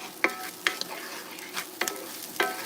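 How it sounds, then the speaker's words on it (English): Food sizzles softly in a hot pan while a utensil scrapes and stirs it, five or six sharp clacks spaced about half a second apart over a faint continuous fry. "we're going to saute that"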